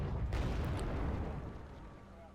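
Tank cannon fire in the video game Wargame Airland Battle, T-64 and T-80U tanks engaging an M1A1: a heavy booming shot with a deep low rumble that slowly decays, under a faint voice.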